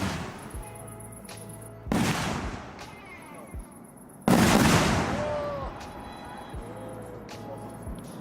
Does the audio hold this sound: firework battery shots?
yes